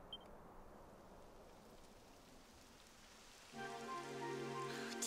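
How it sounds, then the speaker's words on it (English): Rain falls in the video game Dragon Quest XI as a soft, steady hiss, quiet and even, before tonal game music swells in over it near the end. "It would have to go and start raining, wouldn't it?"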